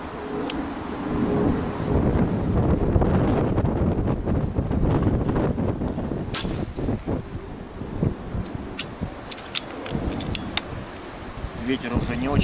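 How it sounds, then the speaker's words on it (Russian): Wind gusts steadily across the microphone at an outdoor rifle range, a continuous rumbling buffet with sharp crackles and clicks scattered through it, loud and close throughout. "Ветер уже не очень приятный."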